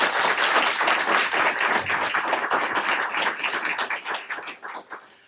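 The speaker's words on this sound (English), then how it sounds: "I would ask for a round of applause for her in her absence" Audience at a school district board meeting claps for an absent library media specialist, the individual claps distinct and rhythmic at first, then thinning out and fading toward the close.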